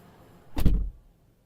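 The door of a Porsche Cayenne S E-Hybrid Coupé is shut with a single firm thud, close and short, with no latch rattle and quiet surroundings.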